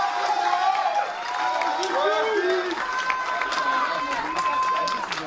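A crowd at a live event applauds and cheers for team member Aziza Boudrar, a steady wash of clapping and shouts with voices mixed through it for the whole stretch.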